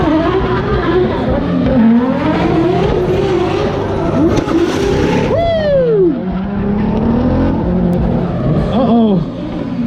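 A car with a fully built Toyota 2JZ engine accelerates hard at the SEMA show in Las Vegas, a loud rising engine note over steady crowd noise, with a sharp tire squeal or rev sweep near the end.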